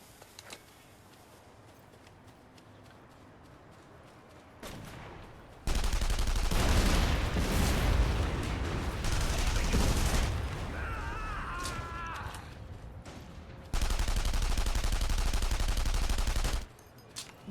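Gunfire bursts from a backup gun in The Saboteur, a loud sustained volley lasting several seconds, then a second heavy burst after a brief lull, with no talking.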